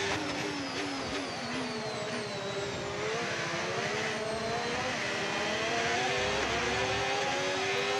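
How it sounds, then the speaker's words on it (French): A Formula 1 racing car's engine screams continuously in a video game, a loud, high whine that rises and shifts through gears, with other cars' engines audible around it during an overtake at a chicane. "Voilà, donc doublé Hülkenberg à la chicane"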